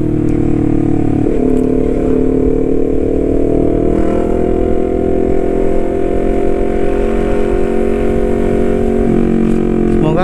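A Honda CBR250RR motorcycle engine drones steadily and loudly throughout a ride in Makassar, its pitch shifting as the rider changes gears.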